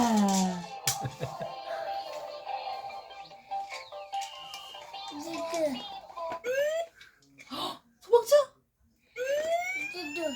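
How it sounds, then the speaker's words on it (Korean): A police car siren inside a children's song rises and falls in sweeping tones amid playful sounds and music, while a voice and giggles mix in among the bursts. "와 맞아 경찰차야 경찰차"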